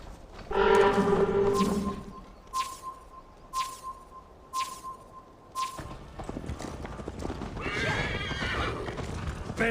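A horse in Assassin's Creed Valhalla gives a loud, close whinny, then its hooves clop in a steady run of separate beats before a broader rush of galloping and movement noise fills the rest.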